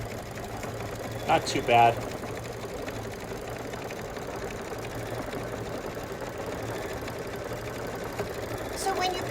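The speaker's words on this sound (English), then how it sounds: "It's going to do the embroidery. And it's going to finish on the right-hand side. So this is just going to take 2 minutes to sew out." Embroidery sewing machine stitching out an edge-to-edge quilting design, a faint steady mechanical hum running throughout while a person briefly speaks near the start.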